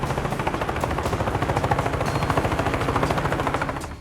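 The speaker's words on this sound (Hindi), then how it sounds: "हेलीकॉप्टर की मशीन गन का टेस्ट हो रहा है।" A Chinese air force helicopter's machine gun test-firing over the sea, heard as one loud, close, unbroken rapid burst lasting about four seconds before it cuts off.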